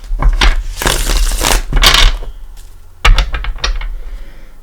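A deck of tarot cards is shuffled close up in rapid, crackling bursts, two flurries of riffling separated by a brief pause.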